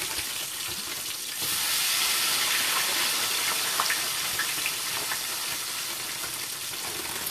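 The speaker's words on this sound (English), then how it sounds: "I'm frying it in my fish grease" Steady, dense sizzling and crackling of fries frying in hot fish grease, close and continuous, growing slightly louder after the first second.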